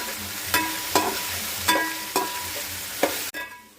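Biryani ingredients with green chillies and onions stirred in a hot pan, a continuous close sizzle broken by regular spatula scrapes and knocks against the metal, roughly one every half second to second, no voices.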